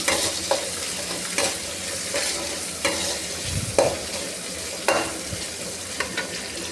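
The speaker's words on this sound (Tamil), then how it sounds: "சின்ன வெங்காயம் ஆட் பண்ணி நல்லா வதக்கிக்கலாம்" Shallots sautéed with cumin, garlic and green chili in a pan, a loud steady sizzle broken by regular scraping strokes of a spatula every second or so, close by and without speech.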